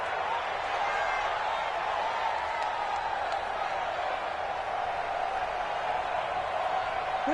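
A stadium crowd at a Texans football game ahead of a big third down makes a steady, distant roar of cheering that runs unbroken underneath the surrounding sound.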